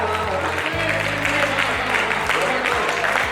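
Audience applause at a Hindi poetry recital by poet Gajendra Priyanshu: dense, continuous clapping fills the whole stretch, with sustained musical tones running underneath.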